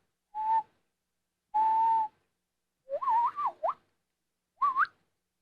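A person whistles four short tones alone: two steady single notes, then a wavering warbled phrase and a final rising note, with clean silences between them.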